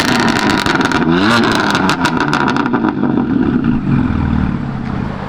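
A BMW M4 Competition's engine and exhaust roar loudly and up close, with a sustained rumbling drone and a rising rev before it settles back to a steady tone.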